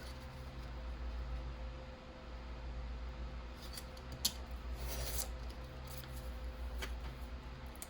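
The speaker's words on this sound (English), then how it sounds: "And I will cut away this as well" Scissors snip through paper and card for a junk journal cover, a few faint crisp cuts and light rustling in a quiet room, with no talking.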